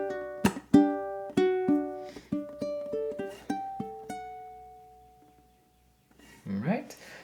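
Ukulele picking out the closing bars of a song, a run of bright plucked notes that ring and fade to near silence, then a brief low rustle at the end.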